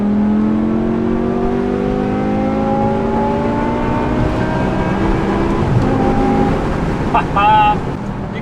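BMW E63 M6 fitted with Valvetronic Designs universal mufflers revs up, its exhaust note climbing steadily in pitch over several seconds before easing off. The engine is loud and close, with a brief burst of extra noise near the end.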